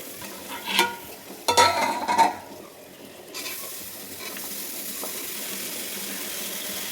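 Snakehead fish pieces with salt, turmeric and slit green chillies sautéed in a pan: a few sharp stirring scrapes early on, then a steady soft sizzle continuing alone.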